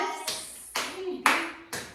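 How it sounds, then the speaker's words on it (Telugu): Family members clap their hands during a New Year's Eve celebration at home, four sharp bursts of claps at a steady rhythm, close and fairly loud, with children's voices faintly underneath. "క్లాప్స్ కొట్టు"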